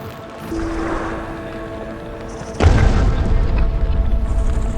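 A rocket explosion in Factorio with the Warptorio mod lands as a sudden loud boom partway through, with a broad rumbling blast that stays heavy and sustained over a low ambient game background.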